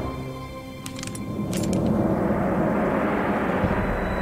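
A video game HU-121 helicopter engine swells into a steady, loud rotor drone after a few brief metallic clicks at the start.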